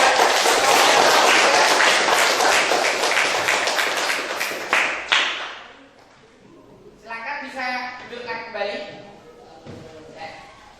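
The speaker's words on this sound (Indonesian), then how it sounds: "Terima kasih, tepuk tangan buat" Applause from students in a classroom, dense close clapping for about five seconds that fades out, followed by a teacher speaking.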